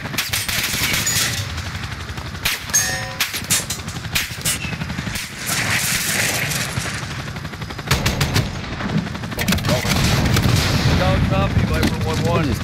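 Sustained gunfire from the Call of Duty Modern Warfare campaign ending, with dense bursts of automatic and single shots layered through the whole stretch, loud and close, with voices talking underneath.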